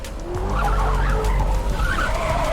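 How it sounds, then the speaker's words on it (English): A rear-wheel-drive race car spins out during a drag race, its tires letting out a loud, sustained skidding squeal over a roaring engine for a couple of seconds. "Oh, my boy's spinning out."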